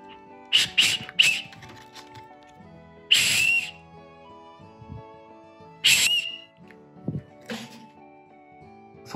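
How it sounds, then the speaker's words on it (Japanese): A small plastic survival whistle blown lightly in several short, bright blasts separated by pauses, close and fairly loud, with faint background noise between toots. "サバイバルホイッスルということで、まあ、まずは普通に笛ですね。"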